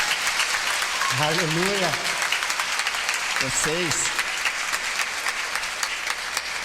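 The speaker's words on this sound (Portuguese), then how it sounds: "Você pode aplaudir ao Senhor." A church congregation at an Easter service breaks into sustained, dense applause that fills the room from start to finish, while a voice calls out briefly over it.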